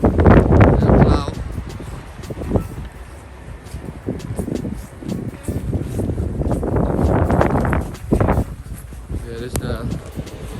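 Strong wind in a New England blizzard buffeting the microphone in rough, uneven gusts, with people talking over the roaring bluster throughout.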